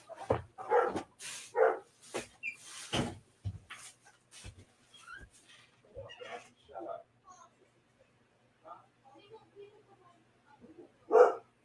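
A dog barks in short bursts at close range, a few loud woofs at first and then sparser yips, interleaved with someone talking.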